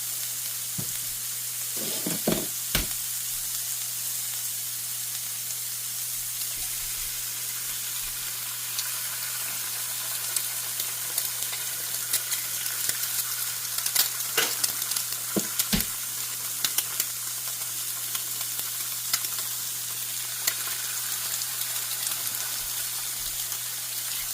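A sunny side up egg fries in a pan with a continuous bright sizzle. Scattered pops and crackles rise above it, and a low steady hum runs underneath the whole time.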